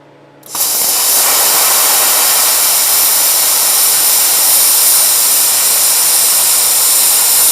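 A plasma cutter set to 40 amps and 45 psi cuts 3/8-inch steel plate, bursting into a loud, steady, broad hiss after a brief quiet start and holding it evenly to the end.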